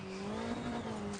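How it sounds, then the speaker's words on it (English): A rally car in the WRC Generations video game launches from the start of a Kenya stage during a manufacturer tryout. Its engine drones loud, close and steady throughout, with no talking. "this has a lot more power than the WRC3 car"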